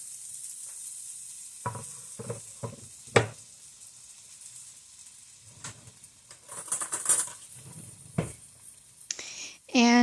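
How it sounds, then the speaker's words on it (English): Sausage meat for a breakfast sausage and egg casserole goes into a hot pan, giving a scattered crackle and sizzle broken by several sharp clanks and scrapes, with a louder burst near the end and no talking. "so I'm getting the rest of the sausage dumped in."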